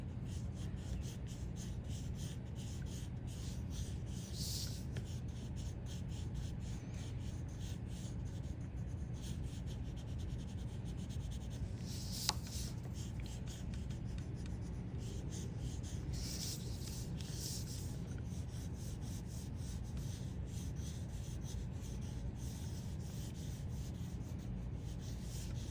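A pencil shades back and forth on paper in a steady, soft, continuous rubbing scratch, close up with no voices.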